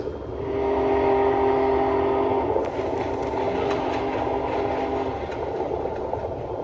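A train rumbles past on rails with a continuous roar, a steady tonal whine fading partway through, and faint rhythmic clatter as it continues.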